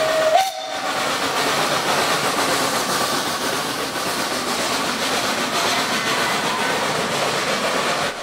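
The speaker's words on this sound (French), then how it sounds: "Et à toute vapeur, crachant la fumée et un coup de sifflet pour nous." A Mulhouse steam tram gives a short whistle blast at the start, then keeps running with a steady, loud rumble and hiss of steam and rolling wheels.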